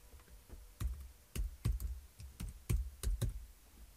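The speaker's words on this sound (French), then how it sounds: "Dans la barre d'adresse, saisissez directement au clavier" Close-up typing of office.com on a computer keyboard: about a dozen crisp, uneven key presses with short pauses between, fairly quiet and heard alone with no talking.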